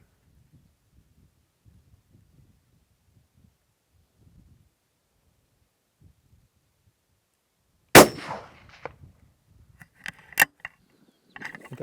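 A single sharp rifle shot rings out at an outdoor range aimed at a small target, followed by a faint metallic clang of the hit and scattered quieter clicks and handling noises amid near silence.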